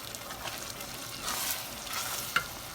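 A spoon stirs a pot of BBQ sauce mixture made with regular Heinz ketchup, giving soft, continuous scraping and swishing with a faint sizzle and one brief clink near the end, close and quiet.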